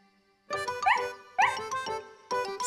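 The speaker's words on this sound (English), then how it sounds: "Said Snuffy, barking happily and wagging her tail." Snuffy, a cartoon dog, gives a few bright, happy barks and yips in bursts, close and fairly loud, with short gaps between them.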